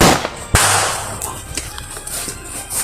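Sharp cracking video game gunshots, one loud blast followed by several quicker, lighter pops against a hissy, noisy background.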